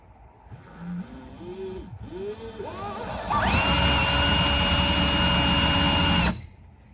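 A power drill whines as it spins up, then runs loud and steady for about three seconds before stopping abruptly, making a guide mark in the wooden body of a fishing lure.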